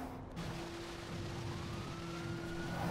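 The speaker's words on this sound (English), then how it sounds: "Oh, there's a police car in the tunnel." Police car siren inside a tunnel in the video game GTA Online, a steady wailing tone with a slow rising sweep, moderately loud over rumbling ambient noise, no talking.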